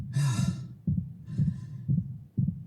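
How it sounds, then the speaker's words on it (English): Heavy, fatigued breathing of Isaac in the Dead Space Remake: two long airy exhales over a low rhythmic thumping like a heartbeat, with repeated deep pulses continuing after the breaths, close and prominent. "you'll start to hear fatigued breaths, exerted breaths start to mix in with his regular base breathing rate"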